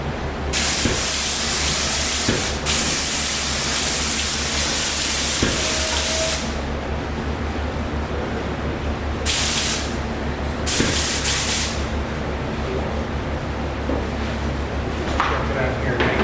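Paint spray gun spraying in a shop, a loud sustained hiss in several long bursts separated by brief pauses, with people talking in the background.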